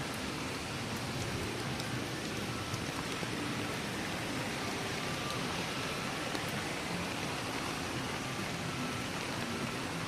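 Steady rain falls on a street in Shenzhen, a dense, even hiss of drops that holds unchanged and fairly loud for the whole ten seconds, with no voices over it.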